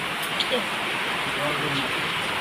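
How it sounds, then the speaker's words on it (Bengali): Steady rain pours down outside a home kitchen during cooking, a continuous even hiss that fills the whole stretch, with a faint murmur of voices in the background. "বৃষ্টি হয়েই যাচ্ছে"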